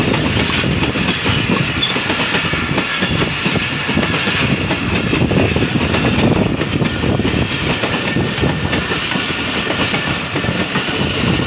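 A train rolls steadily through Braudabad railway station in rainy weather, a loud, continuous rumble with rhythmic clickety-clack of wheels over rail joints lasting throughout, close by and without voices.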